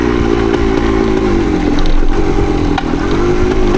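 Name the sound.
1975 Yamaha DT250 motorcycle engine on trail ride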